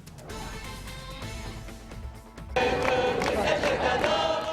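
A diverse crowd gathers in central Brussels beside a makeshift memorial to bombing victims, a steady outdoor murmur of many voices that swells louder and busier partway through.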